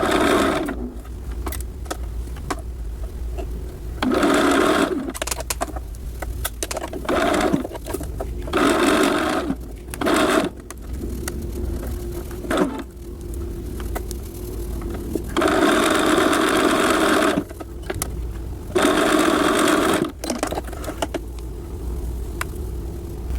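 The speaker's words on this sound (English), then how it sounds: "So we're going to sew this now at 1/4 inch all the way across." Sewing machine stitching a seam across knit sweater fabric, heard as a close mechanical whirring hum running in repeated bursts of a few seconds, separated by short pauses and soft clicks.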